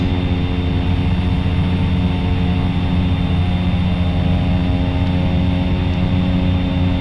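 A Cessna Caravan's turboprop engine in the X-Plane 11 flight simulator drones steadily during a night flight, a constant loud hum with layered tonal whine and no voices.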